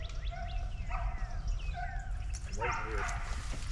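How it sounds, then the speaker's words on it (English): Hunting dogs barking during a wild boar hunt outdoors, a few distant yips and barks scattered over steady low rumbling background noise, with a louder burst near the end. "Different dog bark."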